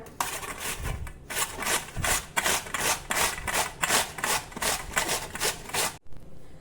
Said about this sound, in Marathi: आता ह्याच ताटामध्ये आपण कांदा देखील किसून घेऊया